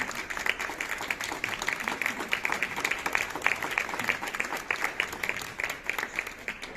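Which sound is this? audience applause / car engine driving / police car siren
audience applause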